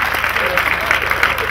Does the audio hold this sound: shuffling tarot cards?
no